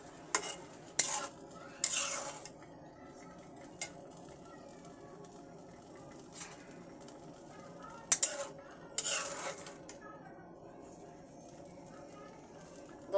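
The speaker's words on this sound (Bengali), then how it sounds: "এবার আমি নেড়ে দেব তরকারিটা।" A spoon scrapes and knocks against a pot while tilapia and yardlong bean curry is stirred, giving sparse, sharp clinks and scrapes separated by quiet stretches, with a soft sizzle underneath.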